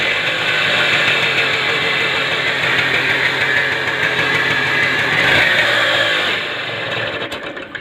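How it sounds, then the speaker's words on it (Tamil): An XL Heavy Duty moped engine runs steadily after a kick start, its loud, continuous mid-range idle chugging throughout and easing slightly toward the end, with no talk over it. "பார்த்தீங்களா, வண்டி ஸ்டார்ட் ஆகிடுச்சு."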